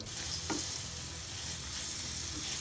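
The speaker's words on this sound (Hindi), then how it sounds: "मैं इसे मीडियम टू लो फ्लेम पे 5 मिनट तक फ्राई करूँगी।" Chicken with ginger and spices frying in a pan over a medium-low flame, a steady, close sizzle with a brief stirring scrape near the start and no voices.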